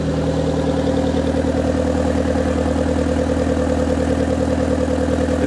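An old car engine, a 40-year-old Nissan 200SX with a random misfire, idles steadily with a rough, uneven chug, occasional stumbles breaking the rhythm, close and loud with no talking.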